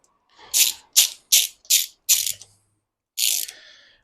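Ratchet wrench tightening bolts on the front fork of a BMW K100 café racer being fitted with Yamaha R1 forks: six separate bursts of clicking, five quick ones in a row, then a pause and a final longer burst, close and clear, no talk.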